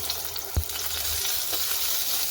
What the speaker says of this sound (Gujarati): ખૂબ ગરમ થાય પછી આપણે તેમાં ટમેટાને સાતળવાના।